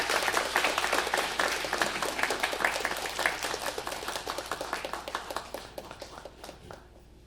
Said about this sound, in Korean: 다시 한번 큰 박수로 해주시죠.